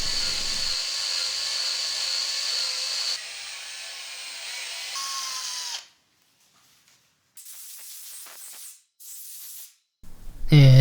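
Threading end mill cutting tapped M6 holes in a fixture plate on a CNC machine, a steady high hissing whine with faint tonal squeals, dropping away to near silence before short renewed bursts.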